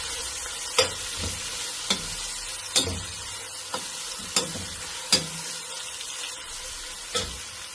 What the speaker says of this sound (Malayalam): സവാള മൂത്ത് വന്നിട്ടുണ്ട്.